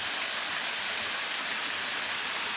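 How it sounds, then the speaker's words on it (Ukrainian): Two small waterfalls in a Japanese garden at Przesieka, Poland, give a steady, even rush of falling water that runs unbroken and fairly close throughout, with no voices. "І ось такі тут два невеличких водоспади."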